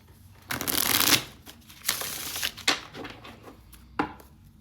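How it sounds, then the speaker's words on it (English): A deck of tarot cards being shuffled by hand, several quick riffling bursts of flapping card edges, the first long and loud, followed by shorter taps and shuffles close to the microphone. "No, I feel like I gotta shuffle real quick."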